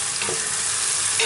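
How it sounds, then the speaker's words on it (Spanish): Spinach sautés in a pan with tomato sofrito, a close, continuous sizzle with a couple of soft stirring scrapes, heard alone. "la voy a rehogar un poco"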